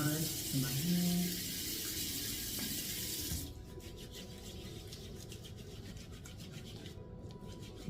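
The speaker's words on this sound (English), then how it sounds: "I'm just going to add a little water to my hand." Tap water runs steadily into a cupped hand over a bathroom sink while a daily microfoliant exfoliant is being prepared, a loud rushing splash for about three seconds that then drops to a softer trickle.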